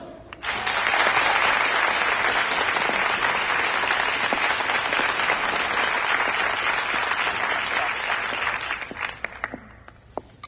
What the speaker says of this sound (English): won't you please give a warm round of applause for Helen.